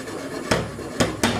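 A pot of okra (gombo) stew being shaken on the stove, three sharp metallic clanks of the pot against the burner, close and clear over a quiet kitchen background.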